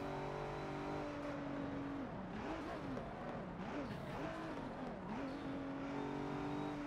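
A race car engine in the video game Forza Motorsport 7 drones steadily, its pitch dipping and rising several times as it brakes and picks back up, with a continuous loud motor hum throughout.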